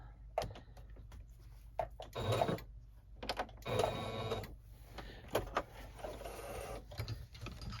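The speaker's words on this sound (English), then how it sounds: "I'm just going to do a couple stitches and back stitch it in the middle" A sewing machine stitches floral fabric in short bursts, giving quiet close mechanical whirring and clicking with pauses between runs for a couple of stitches and a back stitch.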